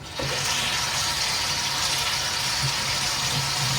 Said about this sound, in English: just washing a pepper.